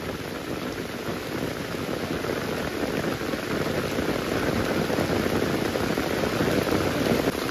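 Heavy, steady downpour during the first monsoon rain beside a flooding river, a dense continuous hiss of rain on surfaces that stays loud and close throughout with no voices.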